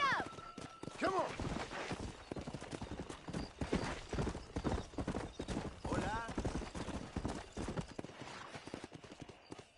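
Galloping horse hooves in the Red Dead Redemption video game, a steady rapid clip-clop running throughout at moderate loudness, with a horse whinny and spoken dialogue mixed over it.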